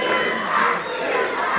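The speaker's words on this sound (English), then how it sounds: "The crowd chanting, "You suck."" Wrestling crowd at an IHW show chanting in unison, a loud, continuous wall of massed voices filling the arena, steady from start to finish.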